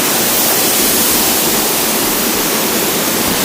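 Jannat Waterfall in Khanspur roars from close by: a loud, steady, full rush of falling water with no pauses and no voices.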